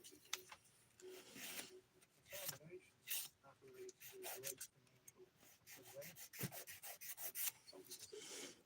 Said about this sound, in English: Now this is the 180 grit side of that sponge file.